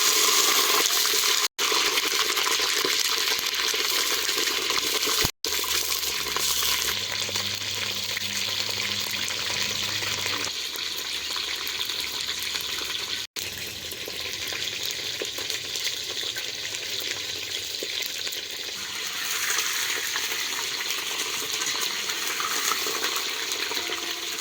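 Brinjal (eggplant) pieces fry in hot oil with a dense, steady sizzle that stays loud and close throughout, broken by a few short gaps and occasional stirring, with no talking.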